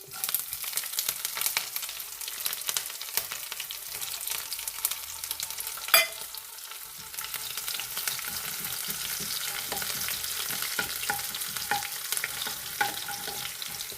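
Chopped green chili, ginger, garlic and onion sauté in hot oil for lemon pickle, giving a continuous soft sizzle and crackle with occasional stirring scrapes, close and steady throughout with no voices.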